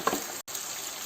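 Red chilli powder, turmeric and black pepper fry in a pan with bottle gourd and chana dal, giving a steady close sizzle that briefly cuts out midway.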